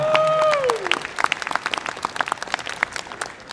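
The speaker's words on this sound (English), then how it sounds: "Giving them another round of applause" Audience applause at the Visioncon 2023 cosplay contest, a thinner scattering of claps that rises after a brief electronic tone and continues unevenly to the end.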